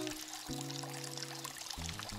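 Water trickles and pours steadily in a wooded forest garden of a country house in Yangpyeong, a continuous close splashing flow with a low tonal hum underneath.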